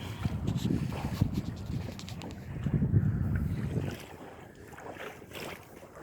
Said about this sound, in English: The wind comes up and down